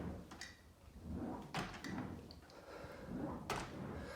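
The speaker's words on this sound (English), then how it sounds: "That's the air trying to escape as I'm opening and shutting the door." A tightly sealed garden building's door is opened and shut, giving soft whooshes of escaping air with muffled thuds and clicks of the door, repeated twice, quiet and close.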